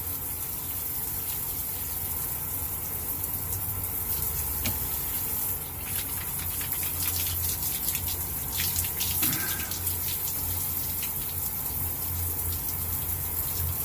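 A tap runs steadily throughout to rinse out a razor during a close shave, giving a continuous, moderately quiet splash and gush with small clinks and slight changes in the flow.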